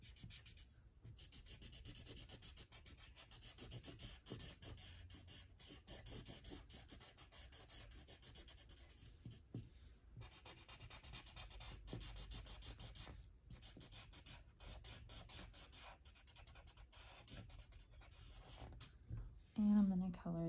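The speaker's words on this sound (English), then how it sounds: "I'm gonna color his vest in brown." Colored pencil scratching steadily on paper while coloring a brown vest, a soft continuous rubbing with brief pauses between strokes, close and quiet, with a voice occasionally talking over it.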